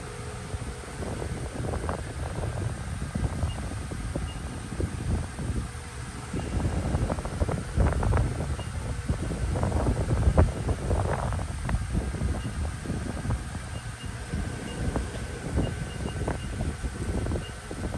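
A 2004 Haas VF-2B CNC vertical machining center with a 20 hp spindle, running in low range at about 1,000 RPM, gives a steady low mechanical hum with a faint airy whir, constant throughout and free of speech.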